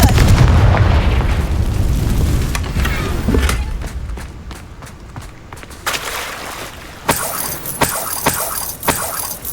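Confringo blasting spells going off in Hogwarts Legacy, a run of loud booming explosions and sharp crackling impacts, with heavy rumble at first and then bright bursts repeating every second or so, no talking.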